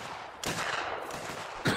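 Massed rifle volleys in an Anglo-Zulu War game, with two sharp broadband bursts of gunfire standing out over a steady noisy battle background.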